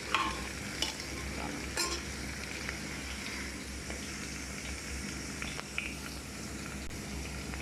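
Onions frying in mustard oil in a pan, a steady close sizzle with occasional stirring scrapes and clinks of a utensil against the pot.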